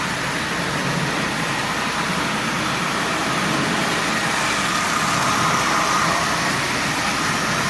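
A prewar Marx 999 toy train engine with front and rear trucks hauls a heavy consist of 25 tin litho cars, giving off a loud, continuous mechanical whirring rumble at steady speed.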